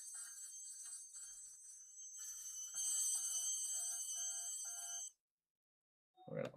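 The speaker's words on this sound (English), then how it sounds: "I don't know if that sound is an alarm clock or what." An alarm clock rings continuously with a bright, high metallic trill that pulses and grows louder midway, then stops abruptly, followed by a brief noise near the end.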